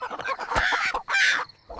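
A cartoon chicken gives two short, fairly close clucking bursts, each about half a second, with little else around them.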